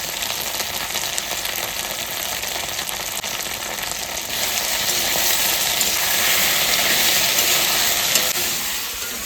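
Taro (kochu) sautéing in a pan for a plain taro curry with salt and turmeric, giving a steady, close broadband sizzle and frying hiss that grows slightly louder midway, with no talking.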